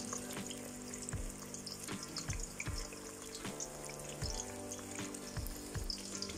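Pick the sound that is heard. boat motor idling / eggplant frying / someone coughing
eggplant frying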